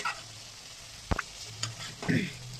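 Paneer tikka roasting on a flame, a soft steady sizzle with a few sharp crackles and taps as the pieces are turned, plus faint background murmur.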